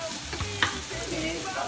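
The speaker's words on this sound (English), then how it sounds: "And saute it up a little bit more." Vegetables sautéing in a pan for ackee and saltfish give a steady, close sizzle, with soft stirring scrapes and one brief sharp tap partway through.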